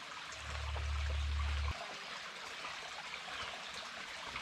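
Creek water flowing on a backpacking trip in Kentucky's Red River Gorge, a steady close trickle and babble with a louder low rush early on, continuing alone without talk.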